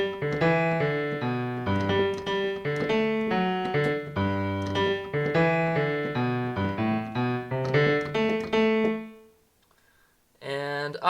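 Solo piano playing the bass line of a song, a bouncy repeating left-hand figure with chords, loud and close for about nine seconds, then a pause and a brief sound at the end.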